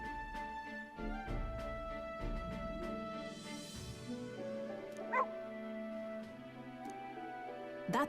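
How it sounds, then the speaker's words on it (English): Dog in the video game Metaphor gives short yips and whimpering barks at intervals, fairly quiet under a soft background tone. "It's a dog."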